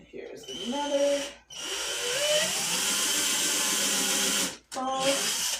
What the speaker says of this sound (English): And then I'm going to go ahead and pre-drill.